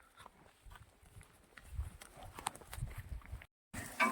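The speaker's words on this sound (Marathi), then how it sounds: "मित्रांनो बैल बीडला चाललेले आहेत. बैल निघले आहेत." A pair of bulls walks along a road toward the Beed cattle market, their hooves making faint, irregular thuds and clops close by over a quiet outdoor background.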